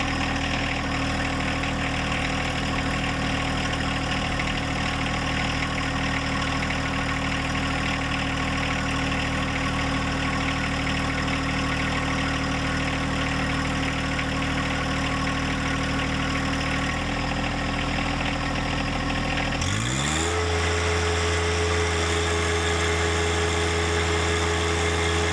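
A John Deere 1025R compact tractor runs at a steady loud drone with a rhythmic pulsing chug while its loader lifts about 560 pounds of weights, the pitch dropping sharply near the end as the engine settles.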